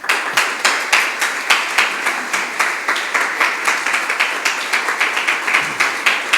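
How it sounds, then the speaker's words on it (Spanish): An audience claps steadily at a church resurrection service, the many hands forming a fairly even, rhythmic patter that holds at a moderate level for several seconds without voices over it. "Un aplauso para William"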